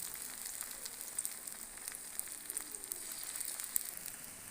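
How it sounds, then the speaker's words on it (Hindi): Egg frying in a pan, a steady soft sizzle with scattered crackles and pops, quiet and continuous with no talking. "अब हमने ये एग फ्राई करने अच्छे तरीके से, इनको हमने फ्राई करना है।"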